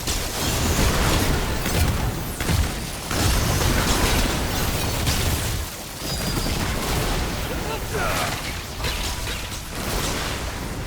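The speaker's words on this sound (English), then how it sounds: "Everything just explodes and everything is misty and everything does a lot of damage" Repeated melee Crystal Staff attacks in Remnant 2 set off dense, continuous explosions, a loud roaring wash of booms, bursts and crackling impacts lasting throughout.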